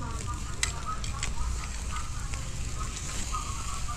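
Fish grilling over an open fire, a steady crackling sizzle with sharp pops running throughout, with a voice talking faintly underneath.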